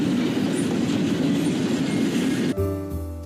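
A freight train pulled by three foreign locomotives from different railroads rumbles past close and loud, a steady roar of wheels that cuts off abruptly near the end.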